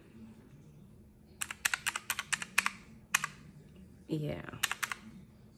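Quick bursts of typing on a computer keyboard, a cluster of sharp clicky keystrokes followed by a short pause, then a few more clacks, with a brief spoken word in between.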